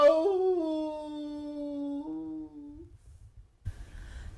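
A human voice imitates a coyote howl, a long, loud, wavering held cry that slides and fades out, followed by quiet rustling and a brief soft thump at the end.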